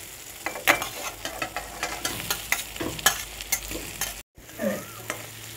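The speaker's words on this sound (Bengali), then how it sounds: "পটলগুলো দিয়ে আমি একটু ভাজা ভাজা করে নিয়েছি" Pointed gourd pieces frying and being stirred in spiced oil, giving a steady sizzle broken by repeated scraping and stirring strokes, close and fairly loud, with a brief dropout near the end and no talking.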